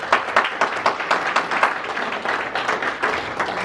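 Audience applause at a stand-up comedy show: a burst of many hands clapping steadily and evenly, fairly close and moderately loud, with no voices on top.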